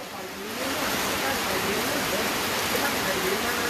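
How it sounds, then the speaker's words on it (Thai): Heavy rain pours steadily over floodwater during a flash flood in Loei province, Thailand, a dense, continuous roaring wash that swells after the first half second and stays loud throughout. "ฝนก็ตกมาเรื่อย ๆ"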